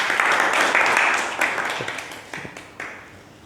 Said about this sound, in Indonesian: Terima kasih, tepuk tangan untuk Bagus